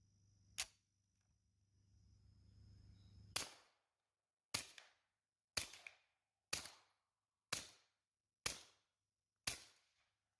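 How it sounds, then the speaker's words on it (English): A Rock Island 1911 .45 pistol fitted with a Silencer Co. Hybrid 46 suppressor fires seven sharp, muffled cracks, spaced roughly a second apart after a lone early shot, each ending in a brief fading tail, with no talking. "Real gun silencer sound."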